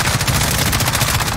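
Rapid automatic gunfire in Call of Duty Modern Warfare Spec Ops co-op, a dense, loud, continuous rattle of closely spaced shots with no pause.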